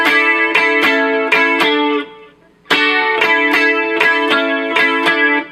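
Electric guitar playing a sequence of chords with effects, in a live song lesson style: repeated strummed chord stabs in a steady rhythm, a brief pause near the middle, then the pattern resumes, loud and close.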